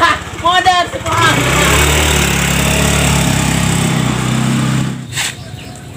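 A motorcycle engine idles and revs steadily for several seconds, loud and close, with people talking briefly before and after.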